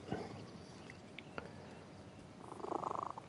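A cat purring inside GTA Online, a soft low rumble running through the whole short stretch with a faint swell of game ambience toward the end, no voices over it.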